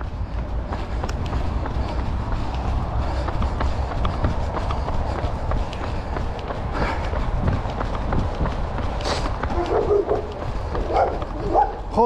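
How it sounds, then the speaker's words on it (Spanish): A dog barks during a 13 km run, heard over the runner's steady footfalls and breathing outdoors. Several barks come toward the end, mixed with rustling movement noise. "Joder, el perro."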